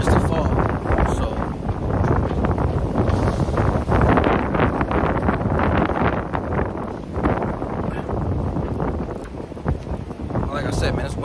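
Strong wind buffets a microphone outdoors, a steady low rumble with gusty swells lasting throughout, while someone talks over it.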